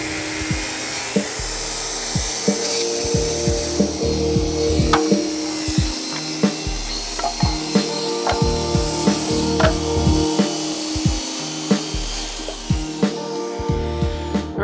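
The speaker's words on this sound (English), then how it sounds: "So I'm just using a fine tooth saw." Fine-tooth PVC plumbing saw cutting softwood deck lumber, with steady repeated rasping strokes at close range, each stroke marked by a sharp onset, continuing without pause through the whole stretch.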